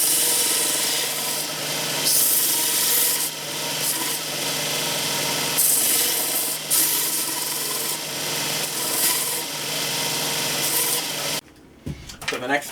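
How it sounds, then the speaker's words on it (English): A file or belt sander cleans up holes in a handmade knife, giving a steady, harsh abrasive rasp with slight surges. It continues for about eleven seconds, then cuts off and leaves faint handling sounds. "I'm going to clean these holes up with a file, or my belt sander probably."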